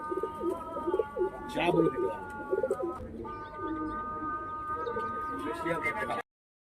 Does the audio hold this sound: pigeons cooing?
yes